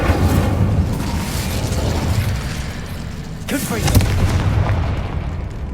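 Loud booming blast from the Incendiary fire spell in the video game Hogwarts Legacy, erupting over a dense, continuous game soundscape, with a sharp burst about midway.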